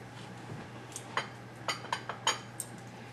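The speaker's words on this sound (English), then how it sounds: "Give that a quick stir." A spoon taps and scrapes a pot while a fiery chicken coconut curry is stirred, giving a few light, sparse clinks over a quiet steady hum.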